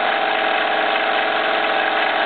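A Jensen steam engine drives a Baker fan turning about 1,768 RPM, giving a loud, steady, continuous mechanical whir and hum with no pauses and no voices.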